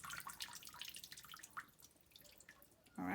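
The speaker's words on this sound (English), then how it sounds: "I just take a handful out of the water and just hold it up and let the water drain out." Water drips and trickles from a handful of wet collard greens held up over a basin, a series of faint, scattered drops and splashes, quiet and close, with a brief louder splash at the end.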